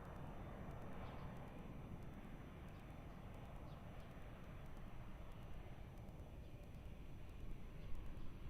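An airplane landing on runway 02 at Lisbon Airport, heard as a steady, distant broadband jet roar that swells slightly near the end, with no talk.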